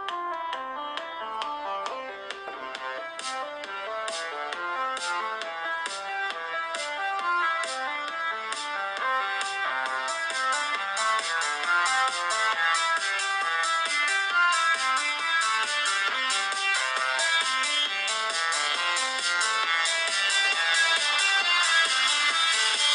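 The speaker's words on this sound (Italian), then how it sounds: "ho semplicemente messo in riproduzione sul telefono una musica senza diritti di copyright, in modo che voi possiate giudicarne la qualità dell'audio" Royalty-free music plays continuously through the built-in speaker of an iPhone 5, sounding thin and tinny with no bass, a steady close melody that lasts throughout.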